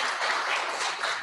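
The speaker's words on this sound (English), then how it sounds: "Let's give him a round of applause." An audience at an evening gathering about desert deployment claps together in a brief, dense burst of applause that holds steady and ends quickly.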